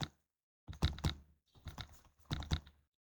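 Keyboard typing during data entry into an Excel spreadsheet: three short bursts of clustered keystrokes separated by pauses, fairly close and clear with no talking.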